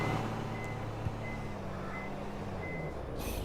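Truck reversing beeps in Farming Simulator 22 sound as a steady, faint series of tones over a constant engine hum, with no talking.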